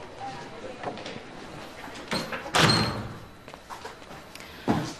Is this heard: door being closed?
yes